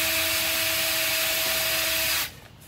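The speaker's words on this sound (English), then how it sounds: "You may have to drill some of these holes a couple of times just to make sure you got all the junk out of it" A power drill bores holes in a pipe for a homemade sprinkler, its high whine and grinding bite running steadily and close for about two seconds before cutting off abruptly.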